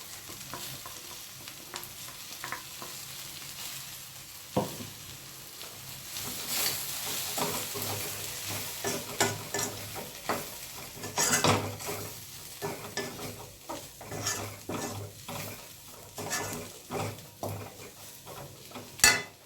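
Sliced okra fries and sizzles steadily in a pan, with peanuts and pepper tipped in and a spoon stirring and scraping against the metal, the close crackle rising and thickening as the contents are moved around.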